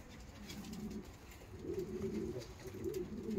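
Posta pigeons coo in low, repeated rounded phrases, quiet at first and growing louder toward the end, with no talk over them.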